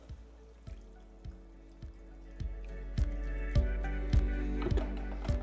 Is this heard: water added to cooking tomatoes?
yes